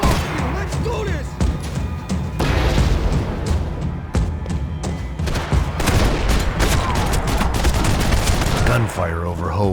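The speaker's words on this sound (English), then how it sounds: "Gunfire over Hoboken." Gunfire from the video game Max Payne 3, dense and loud bursts of automatic weapons and heavy booms, rattling almost without pause throughout.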